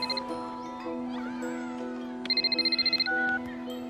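A telephone rings with a short burst of rapid electronic trills, loud and close, over a steady tonal background hum; no one speaks while it rings.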